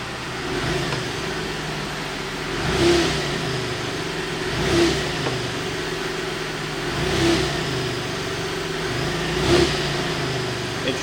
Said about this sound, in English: So I'm going to brake torque the engine again.